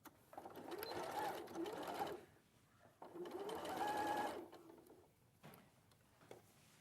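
A sewing machine stitching a garment seam in two bursts of fast, steady whirring of about two seconds each, with a short pause between them, close but quiet, followed by softer handling noise.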